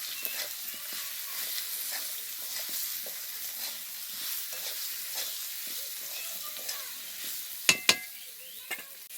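Turmeric, salt and slit green chillies stirred in a cooking pan, a soft continuous sizzle with light scraping strokes and a couple of sharp clinks of the utensil near the end.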